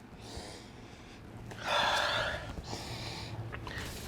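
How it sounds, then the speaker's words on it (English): A few sharp nasal inhales in quick succession, sniffing a new heat press, close and fairly loud, over a low steady hum with no talking. "let me go ahead back in here and give it a couple sniffs."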